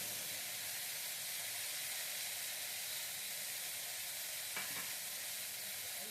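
Foxtail millet pulao with a little rock salt sautés in a pan, giving a faint, even hiss of frying throughout and a brief soft stir or scrape near the end, with no talking.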